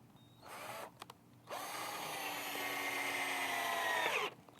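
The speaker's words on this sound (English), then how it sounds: "I'm just going to start driving some screws into these corners" A cordless drill drives screws into the wooden corners of a vegetable garden trellis: a short whine, a couple of quick blips, then one long steady whirring drive that stops abruptly, close and fairly loud.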